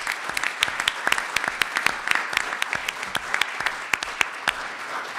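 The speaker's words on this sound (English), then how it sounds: "give them all a big round of applause" Applause from a summit audience, a smaller group clapping with distinct sharp individual claps standing out over a steady background of hands, lasting the full five seconds.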